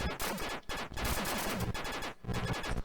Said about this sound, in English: It feels like you have a burst of shots, and then they stop for a sec.